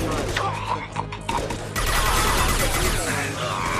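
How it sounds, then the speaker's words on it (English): A heavy, high-impact gunshot fires in the sci-fi shooter Mass Effect 2, set in a dense, loud combat mix with crackling gunfire and a sustained roar after the shot. "Firing a high-impact shot."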